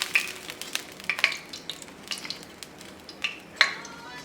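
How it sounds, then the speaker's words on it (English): Butter in a hot frying pan just emptied of browned tofu gives a light sizzle, broken by sharp clinks and scrapes of a utensil against the pan, close and fairly quiet, with no talking. "let's empty this pan and put butter on it"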